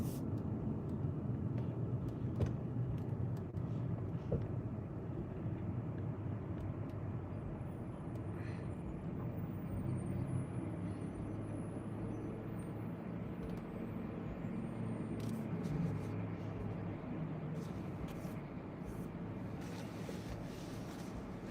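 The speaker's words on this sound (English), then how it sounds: "I'm driving Vegas Strip north." A car driving north along the Las Vegas Strip in Las Vegas gives a steady, loud low rumble of engine and road noise throughout, with faint passing traffic sounds layered on top and no talking.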